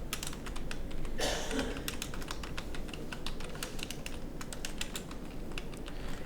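Rapid, steady typing on a computer keyboard, close and clear, with dense clicking keystrokes and a brief louder clatter near the start, no voices.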